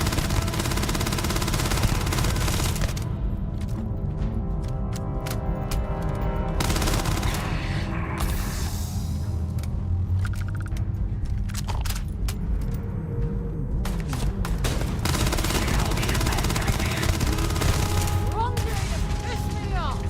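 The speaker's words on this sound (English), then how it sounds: "laser gun" Laser gun fire in the video game Starfield, dense repeated shots running nearly continuously over twenty seconds, loud and busy, with people talking over it at times.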